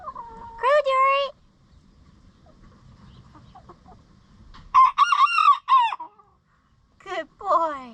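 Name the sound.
rooster crowing on a farm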